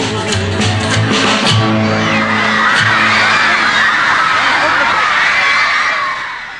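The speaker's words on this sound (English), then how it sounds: "All these fans going wild, and screaming" A crowd of fans at a concert screams and cheers continuously, a loud dense wall of shrill voices with whoops and shouts rising throughout.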